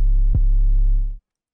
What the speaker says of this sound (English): for my 808, I did a pitch bend because I can't do one in this